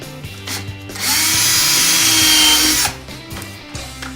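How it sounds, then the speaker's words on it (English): A power drill drives a screw into a stainless steel screen frame, one loud, close, steady whine lasting about two seconds that then stops, with quiet handling noises around it. "today we are going to put in just a couple of screws"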